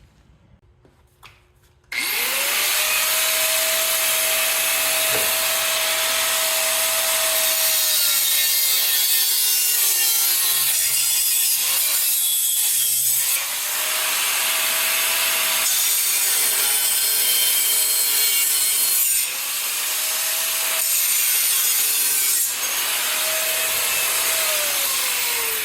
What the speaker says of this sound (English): Okay, so I had to trim this bracket.